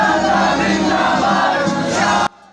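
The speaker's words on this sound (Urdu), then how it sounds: "ریلی سے پاکستان کا مطلب کیا، لا الہ الا اللہ کے فلک شگاف نعرے گونجتے رہے" Loud crowd at a political rally chanting slogans together, a dense roar of massed voices holding steady for about two seconds before cutting off abruptly.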